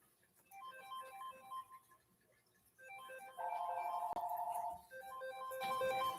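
A phone ringtone plays a repeating melodic pattern of short electronic tones, fairly quiet and indoors. It cycles through several phrases with a brief louder sustained tone in the middle before the call is sent to voicemail.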